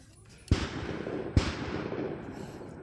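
Two loud gunshots from a firearm at an outdoor shooting range, close by, roughly a second apart, each with a sharp crack and a lingering rumbling echo.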